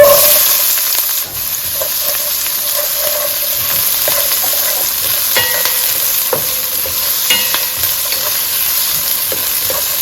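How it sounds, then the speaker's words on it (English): Onions sizzle loudly in vegetable oil over medium-high heat in a pot for Southern collard greens, a constant close hiss broken by light clicks and scrapes of stirring. "I'm gonna add my onions."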